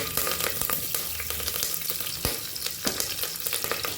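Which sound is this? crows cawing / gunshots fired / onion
onion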